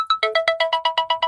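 A phone ringtone plays for an incoming call, a rapid, evenly pulsed electronic melody of about ten bright tones, loud and close with no talking over it.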